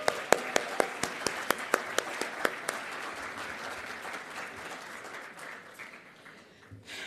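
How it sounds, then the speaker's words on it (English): Audience applause at a hydrogen summit opens with a near, rhythmic run of sharp single claps, then swells into broad crowd clapping before thinning out. "Can we give them another round of applause?"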